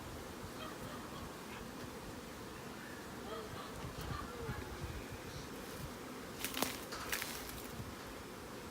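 Dense buzzing of a large mass of honey bees at an opened hive during an inspection, a steady drone with brief louder swells, and faint voices now and then.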